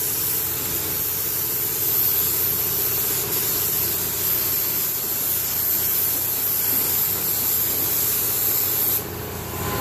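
A spray gun or can lays primer onto a Honda Integra GSR in a steady, close, broadband hiss that runs almost continuously and cuts off near the end, with no talking.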